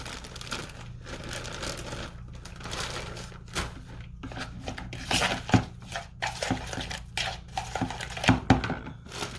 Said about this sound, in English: Just a plain green cabbage. I'll add a little and mix it up.